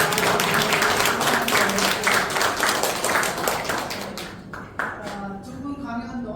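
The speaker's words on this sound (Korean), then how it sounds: "다시 한번 박수 부탁드립니다." Audience applause at a pioneers' day gathering of the Korean Esperanto Association, a dense steady clapping that fills the room and then thins out toward the end.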